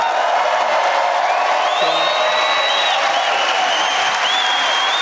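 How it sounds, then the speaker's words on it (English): Rally crowd in 2024 cheering and clapping, with rising whistles cutting through the steady roar several times; people talk within the noise. "That whistle's gonna wake up Dusty."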